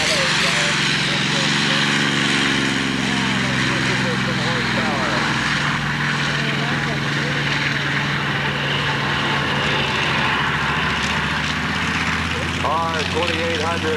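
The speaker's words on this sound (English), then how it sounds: "T6 Texan lumbering down the line." A T6 Texan propeller aircraft taxis at an airshow, its radial engine a loud, steady, rumbling drone with propeller buzz that runs throughout, while a voice speaks over it.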